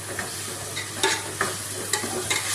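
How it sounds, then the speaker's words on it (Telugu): A spoon stirs spiced tomatoes in a pan for tomato rice, scraping and clinking a few times over a steady low sizzle, close by with no voices. "ఇప్పుడు అన్ని మసాలాలు వేసాక కొంచెం కలిపేసుకోవాలి"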